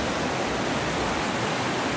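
A tumultuous river current at Horse Cove Campground, with water trickling down into it, rushes as a dense, even hiss of flowing water, unbroken and fairly soft, with no one talking.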